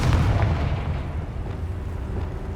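Confringo blasting spell exploding in the Hogwarts Legacy video game, a loud, dense booming burst with a rumbling low-end body that holds steady across the whole moment, with no talking.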